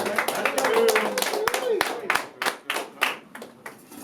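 An audience claps at a hip-hop induction ceremony welcoming a rapper, with scattered, uneven hand claps. A host's voice carries over the clapping, which thins out toward the end.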